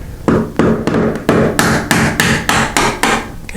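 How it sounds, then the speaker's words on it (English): A screwdriver is tapped upward under a door hinge pin to drive it loose on a sticking door, giving about ten sharp, evenly spaced metallic taps, close and loud, with no talking. "We're going to take this screwdriver, come up underneath here, just like this"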